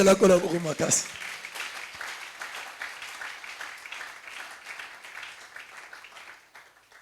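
A church congregation at a Sunday service breaks into applause after a brief opening voice, a dense patter of many hands clapping that holds steady and slowly fades over several seconds.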